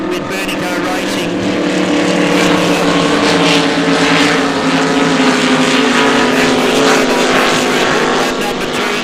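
Racing superboats roar past on the water at the Australian Superboat Series in Geelong, a loud continuous engine drone with rising and falling passes under steady race commentary.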